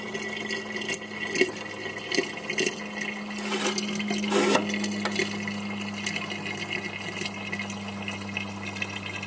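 Water is siphoned out of a tank during a wash test, a steady trickling, gurgling flow with a constant low hum behind it and a few louder splashes early on.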